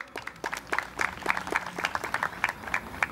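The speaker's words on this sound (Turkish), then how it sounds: "Kocaman bir alkış alalım" A gathering of a village culture and solidarity association in Akkuş gives warm applause for the association president, with brisk, fairly close clapping rising and continuing steadily throughout.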